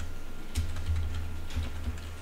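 Fingers type on a computer keyboard while JavaScript code is written, a short burst of close, crisp key clicks in two small clusters with a steady low hum underneath and no voice.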